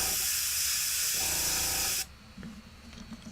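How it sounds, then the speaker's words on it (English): A steady airbrush hiss sprays white ink onto a Warhammer miniature's face for about two seconds, close and bright, then cuts off abruptly leaving a quiet room. "Right now I'm spraying just a little glow onto their face with white ink"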